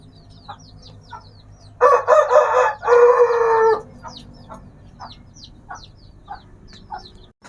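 A rooster crows loudly and close by in a mango orchard, one long drawn-out call, while hens cluck and chirp softly and intermittently throughout.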